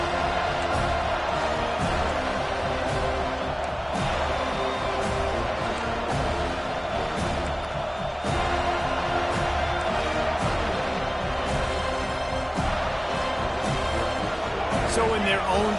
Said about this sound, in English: this crowd really affecting the football game